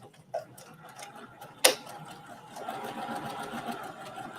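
A sewing machine runs a straight stitch on a tote bag, with a fine rapid ticking whir, a sharp click partway through, then faster continuous stitching at moderate level.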